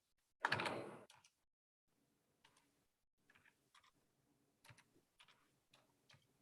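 A web address is typed on a computer keyboard: soft, irregular keystrokes tapping in short bursts, preceded by a louder brief rustling thump, in an otherwise quiet room.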